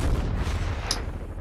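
Grenade explosions in Call of Duty: Black Ops Cold War, a dense low booming rumble that carries through the whole short span, with a brief sharp crack near the end.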